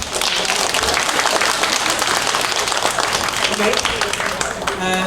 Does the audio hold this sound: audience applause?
yes